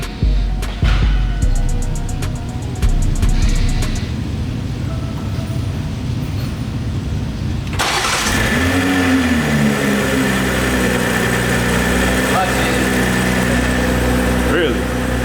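BMW M340i with a race downpipe and MST turbo inlets starts from cold with a sudden loud burst as the exhaust valves open, then settles into a deep, rumbling idle, with people talking over it.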